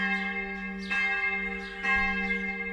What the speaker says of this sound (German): Das ist sozusagen die Glocke, die zum Ende einläutet.